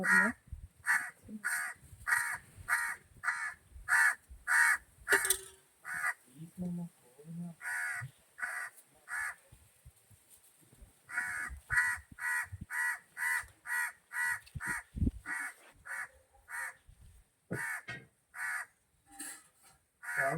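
Crows caw repeatedly as they come in for food, loud and close, in quick runs of harsh calls with short gaps, and a person speaks now and then beneath them.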